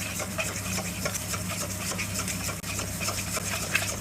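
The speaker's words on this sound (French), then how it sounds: "Je vous invite à mélanger tout avec une fourchette, parce qu'autrement on va se salir les mains." A fork stirs and scrapes through fresh pasta dough in a bowl, a soft, steady, fairly quiet scratching and rubbing under a low background hum.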